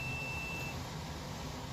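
A thin, steady electronic tone from a multimeter continuity test on compressor wiring sounds briefly at the start, then stops, leaving a low hum.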